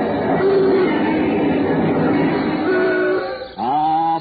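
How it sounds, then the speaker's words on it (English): Noisy Broadway street recreated as a 1935 radio sound effect, with a dense, continuous roar of traffic and rumbling, clattering wheels, and a sharp squealing or whistling tone rising near the end. "Before noise was outlawed, Broadway sounded like this."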